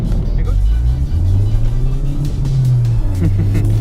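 A Honda Civic Type R engine revs up and climbs through the gears on a rainy road, a loud close growl rising in pitch, with a voice talking over it.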